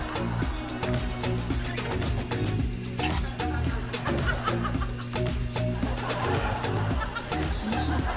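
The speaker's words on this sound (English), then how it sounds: "The birds are chirping in your bed." A chicken clucks repeatedly on a bed in a home, close and fairly loud in a choppy rhythm, with faint laughter mixed in.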